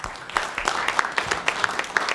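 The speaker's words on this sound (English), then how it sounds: "please give her a round of applause as well" A community meeting audience on an entertainment and sports arena applauds Monica Ray, with steady, evenly paced claps at moderate volume that carry on for a couple of seconds.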